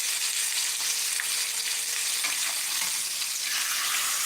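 Steak sears in a Wagner cast iron combo skillet, producing a constant loud, crackling sizzle up close, with no voices over it.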